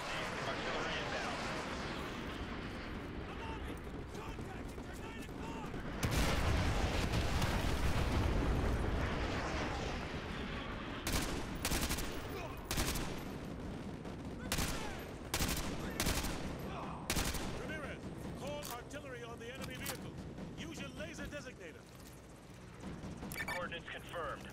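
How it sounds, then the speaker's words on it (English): Artillery strike explosions in the video game Call of Duty Modern Warfare 2 Remastered, heard as a dense rumbling barrage with heavy blasts, followed by sharp, separate impacts and gunfire. Voices talk over the battle. "Fire mission received, artillery inbound."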